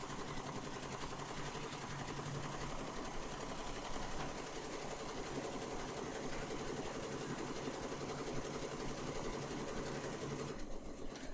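A multi-head embroidery machine runs steadily, with all heads stitching at once in a dense, continuous mechanical whir and rattle that holds at an even level throughout.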